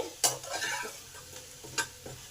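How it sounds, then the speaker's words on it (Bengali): Pumpkin pieces with salt and turmeric being stirred in a pan: a few quick spoon scrapes and soft taps over a faint, steady sizzle, close by and quiet. "কুমড়োয় ভালো করে মিশিয়ে দিলাম"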